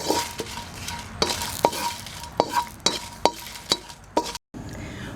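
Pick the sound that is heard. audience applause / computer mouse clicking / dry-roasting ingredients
dry-roasting ingredients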